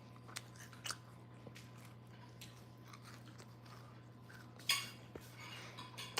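Close-miked chewing of crispy farmer's market food with a crunchy outside and soft inside, in a mukbang: scattered soft crunches and bites over a low steady hum, with a sharper crunch near the end.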